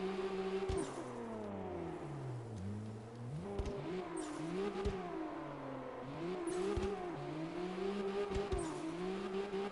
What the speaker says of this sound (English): They got the sounds of the car spot on too.